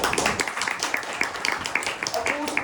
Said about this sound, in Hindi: अरे ताली बजा दो भाई